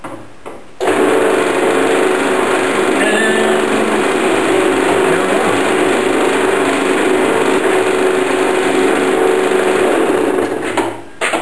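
A drill boring through a metal tube, stepping up to a slightly larger bit: a steady, high-pitched whine runs continuously and loudly, starting after a brief quieter moment and cutting off near the end.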